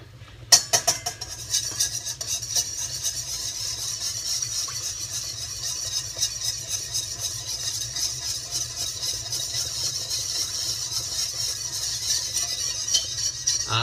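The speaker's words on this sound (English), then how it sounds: "we're going to whisk all that together" Egg yolk being whisked together with other ingredients in a bowl, a steady run of quick metallic clinks and scraping close by, with no talking.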